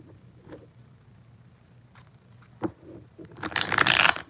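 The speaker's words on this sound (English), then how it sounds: "Let's get 4 shuffles for Anel." Tarot cards being shuffled, soft faint riffles and taps at first, then a louder burst of rapid flapping card shuffling near the end, no talk.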